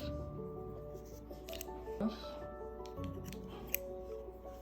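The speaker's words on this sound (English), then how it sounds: "now I'm going to cut this piece of cord off" A few quick scissor snips cutting macrame cord over steady background noise, with a soft rustle in between; close and fairly quiet.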